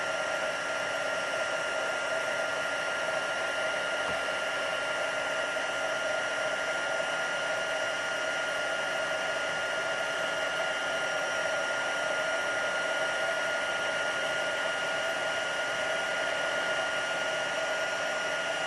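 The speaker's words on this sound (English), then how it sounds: "And then we're just going to heat set this." A heat tool blows a constant loud whirring hiss for the whole stretch, melting white embossing powder on a sunflower watercolour card, steady and uninterrupted without talk.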